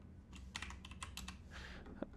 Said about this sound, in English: so you don't see me typing too much